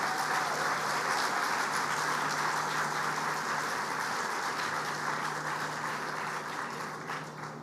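A crowd at the groundbreaking ceremony for the new American Express Tower gives a round of applause, a dense, steady wash of many hands clapping at an even level that tapers slightly toward the end, heard from a moderate distance with no voices.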